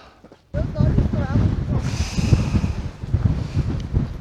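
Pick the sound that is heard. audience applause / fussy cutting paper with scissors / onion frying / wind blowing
wind blowing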